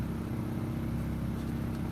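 A car idling with a steady, continuous low engine drone that may need lubrication, close and fairly loud throughout with no talking.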